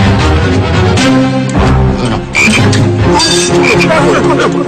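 Frog croaking in an Indonesian colossal-style drama scene, heard amid dense layered sound and music, loud and continuous with repeated croaks rather than a clean isolated call.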